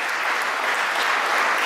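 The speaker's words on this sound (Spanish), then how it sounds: "El aplauso para ustedes" Steady, loud applause from a crowd at a book launch in La Serena, dense and continuous clapping with no pauses.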